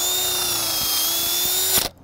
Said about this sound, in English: we have to pre-drill everything